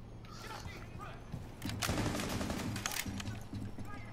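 Rapid bursts of video game gunfire crackle in a dense fusillade, building into a louder sustained volley mid-clip and then tapering, heard with a low hum and some game-chat voices in the background.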